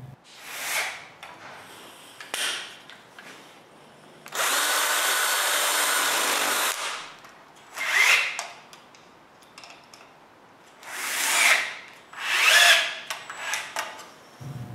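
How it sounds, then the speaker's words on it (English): Hooks are screwed onto a wooden coat rack with a power drill, several short whirring bursts separated by pauses plus one longer steady run, with light clicks and handling noises between. "Now I can screw the hooks in place."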